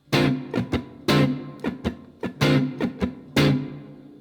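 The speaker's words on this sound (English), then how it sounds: "with a downstroke" A slightly distorted electric guitar plays a blues chord with downstrokes in about ten crisp, punchy strums in a syncopated pattern, with no other sound.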